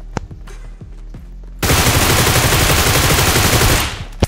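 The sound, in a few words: gunfire in the video game PUBG Mobile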